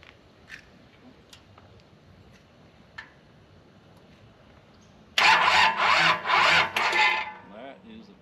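A Ferrari 355 engine cranks and fires for the first time, a loud burst of starter whir and catching combustion after several seconds of quiet ticking and faint background noise, then settling into a rough idle.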